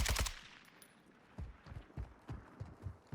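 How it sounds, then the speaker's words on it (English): Bursts of automatic gunfire in Warzone 2 ring out in a fast loud volley at first, then a series of quieter, more distant shots follow in an uneven rhythm. "You can hear gunfire."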